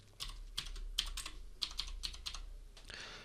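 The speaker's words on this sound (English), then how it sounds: "then we type in your login credentials" Typing login credentials on a computer keyboard, a run of quick, irregular key clicks close to the microphone, ending in a brief burst of faster clatter.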